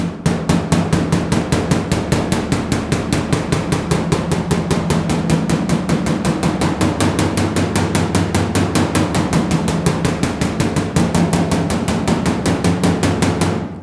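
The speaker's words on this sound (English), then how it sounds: "let's go ahead and see what we can do with the hammer. And you guys notice I'm tapping really lightly" A hammer taps lightly and rapidly in a steady, even rhythm on the quarter panel of a GTO restomod being straightened. The dozens of close metallic strikes carry on almost without a break and no one speaks.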